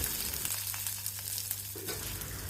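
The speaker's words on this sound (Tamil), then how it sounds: "1 நிமிஷம் வரைக்கும் வதக்கிக்கலாம்." Shallots sauté in a pan over a medium flame, a close, steady sizzle with faint stirring scrapes, brief and fairly quiet.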